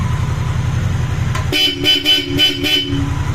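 A Bosch Europa horn on a Honda motorcycle blares four times in short, loud, close honks. The first is cut short, then come three evenly spaced blasts over a low idling engine hum.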